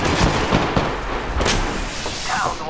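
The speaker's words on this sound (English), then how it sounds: "Opening fire on the enemy." Loud, close gunfire rattles in Apex Legends, a quick burst of sharp shots ringing out over a busy battle mix, with no voice over it.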